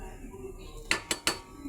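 A spoon scrapes and clinks against a pot of fish curry, three sharp metallic knocks close together after a quiet stretch, with a softer tap near the end.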